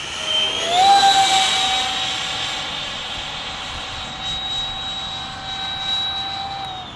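A small electric ducted fan model jet flies past with a loud, steady high-pitched whine that rises sharply at first and then holds, with a light rushing wash underneath.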